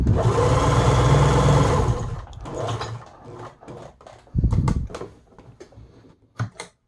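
A Bernina 811 sewing machine stitching a satin row, a fast loud mechanical whir of needle and gears for about two seconds, then stopping into softer clicks and clunks of the mechanism.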